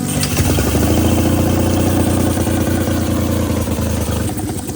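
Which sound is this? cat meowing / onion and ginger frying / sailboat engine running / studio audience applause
sailboat engine running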